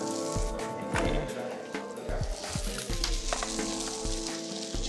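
Potato slices fry until crispy in a hot pan, a loud continuous sizzle with crackling pops and a few clinks, close up with no voice.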